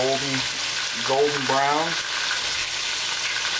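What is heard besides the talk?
fish frying and sizzling in a pan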